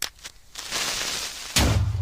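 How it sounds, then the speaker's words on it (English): A Minecraft creeper explosion: a short fuse hiss followed by a loud, noisy boom that bursts in and rumbles briefly. "Let's import the creeper explosion sound."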